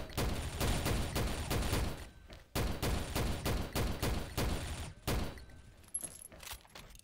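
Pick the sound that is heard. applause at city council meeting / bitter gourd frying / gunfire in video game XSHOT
gunfire in video game XSHOT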